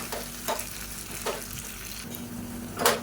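Chopped shallots saute in a hot pan, a continuous soft sizzle with occasional louder bursts as they are stirred, close and steady, with no talking.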